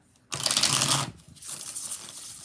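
A deck of cards is riffle-shuffled twice in quick succession, a crisp rapid flutter of card edges followed by a softer second shuffle.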